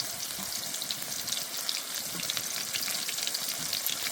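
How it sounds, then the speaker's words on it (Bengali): Chopped onion and tomato frying in a pan with cardamom in hot oil, a steady close sizzle and crackle running unbroken throughout with no voices. "পেঁয়াজ আর টমেটোটা ভালো করে ভেজে নেব।"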